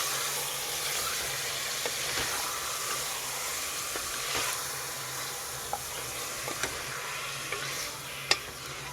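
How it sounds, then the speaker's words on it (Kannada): About three-quarters of a kilogram of chicken fries in a pan, giving a steady, moderate sizzle and hiss with occasional soft stirring clicks and small pops, with no voices heard. "ಈಗ ನಾನು ಚಿಕನನ್ನು ಹಾಕೋತಾ ಇದ್ದೀನಿ. ಸುಮಾರು 3/4 kgಯಷ್ಟು ಚಿಕನನ್ನು ತಗೊಂಡಿದ್ದೀನಿ. ಚೆನ್ನಾಗಿ ಫ್ರೈ ಮಾಡ್ಕೊಳ್ಳಿ."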